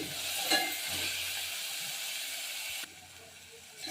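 Onions fry in oil with mustard seeds for a fenugreek-leaf palya, a close, even sizzle that stays loud for about three seconds before dropping to a softer hiss.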